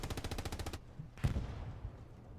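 Machine gun fire in the World War II video game Hell Let Loose, with a rapid, evenly spaced burst of shots followed by a single louder, heavier report, clear and fairly close.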